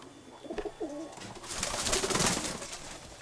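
A pigeon coos softly at close range, followed by a louder burst of rustling or fluttering noise.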